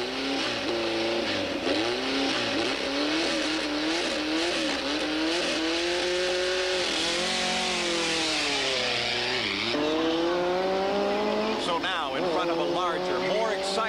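Four-wheel race vehicles with unlimited engine size, two-seaters, rev and roll out in a line to start an off-road race, with loud overlapping engine notes rising and falling under a voice talking.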